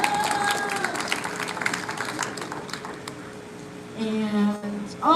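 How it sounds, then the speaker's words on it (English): Audience at a middle school eighth grade celebration applauding and cheering for class speakers, steady crowd clapping with some talk and a few whoops, swelling louder toward the end. "And all you great class speakers, give it up."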